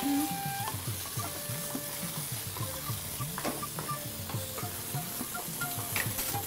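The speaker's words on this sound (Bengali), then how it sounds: "কুলটা দিয়ে একটু নাড়বো, সাতলাবো" Jujubes (kul) sautéed and stirred in hot oil with five-spice seeds, with repeated scraping and knocking of the spoon over a quiet background sizzle.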